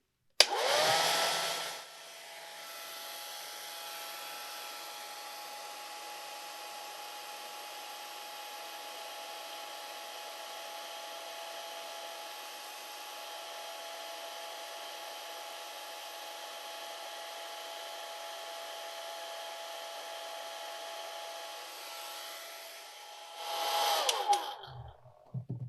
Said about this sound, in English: Now let's stop and give that a good dry.